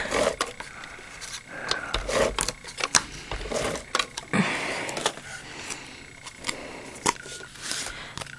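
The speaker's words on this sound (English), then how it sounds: "So let's go ahead and take our ATG." Close crafting sounds from an ATG adhesive tape gun being applied to paper, with irregular sharp clicks, scrapes and rubbing taps spread across the clip, fairly loud and without talk.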